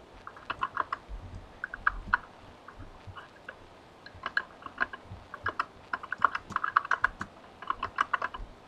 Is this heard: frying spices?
no